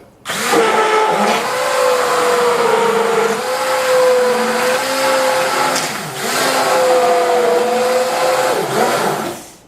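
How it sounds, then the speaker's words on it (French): An immersion blender whirs loudly through a light, fat-free béchamel sauce, a steady motor whine that shifts pitch as it works, running almost continuously with a brief dip midway and no talking. "l'outil magique pour éviter les grumeaux et que ce soit rapide, un mixeur plongeur."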